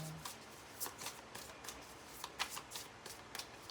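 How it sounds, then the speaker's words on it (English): Tarot cards being shuffled during a card reading, a steady run of soft, papery riffles and flicks close by, fairly quiet and without speech. "Let me get the rest of these cards out."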